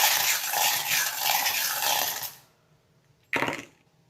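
Small tarot charms tossed onto a table: a dense jingling clatter of many little pieces for about two seconds, then quiet, then one short second rattle.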